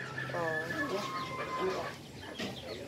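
Chickens cluck in short, close bursts, part of a trio of cheap birds just bought, with people talking over and around the calls.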